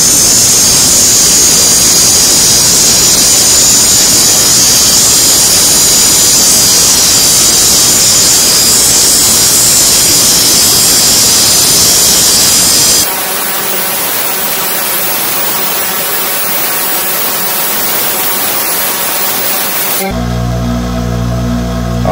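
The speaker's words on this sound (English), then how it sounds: "I'm gonna fire up the bench grinder" A bench grinder runs steadily and loudly with a dense, hissing whir, then drops to a slightly different steady drone partway through before cutting off near the end.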